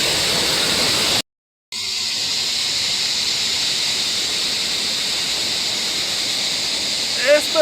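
Rushing river water in Shivapuri Nagarjuna National Park, a steady loud broadband roar close to the microphone, broken by a brief dropout near the start.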